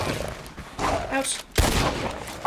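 A few sharp gunshots ring out in Red Dead Redemption 2, two distinct bursts set against a busy bed of game ambience.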